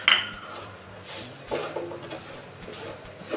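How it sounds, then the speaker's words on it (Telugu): Grated coconut and sugar are stirred in a pan on a stove over low heat, with a spoon scraping and knocking against the pan in uneven, close-up strokes. "మాడకుండా కలుపుకుందాం."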